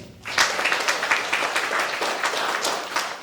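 Onlookers at a carol-singers' performance in Stępocice break into applause after a short pause, a lively burst of many hands clapping with some sharp individual claps, loud and sustained to the end.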